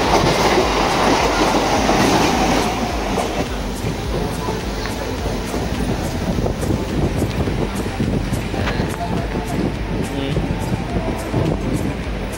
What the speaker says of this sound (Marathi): तर एक 25 मिनिटाच्या डिस्टन्स नंतर ट्रेन आता बँड्राला